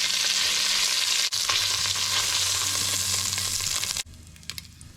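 Pieces of meat browning in a hot pan for oxtail, bacon and liver soup, a loud continuous close sizzle that drops away abruptly near the end, with no talking.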